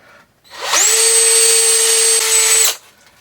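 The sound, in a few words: power drill drilling holes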